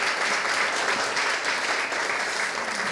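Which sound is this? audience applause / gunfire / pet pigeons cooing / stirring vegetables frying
audience applause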